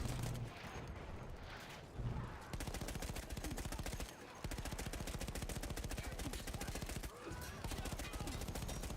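Rapid automatic gunfire rattles in Battlefield 1, loud and near, in long bursts broken by brief gaps, with some quieter game noise at the start.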